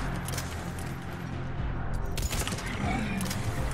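Gunfire in Mass Effect 3 on hardcore mode crackles in bursts over a busy battle backdrop, with a louder volley near the end and no voices over it.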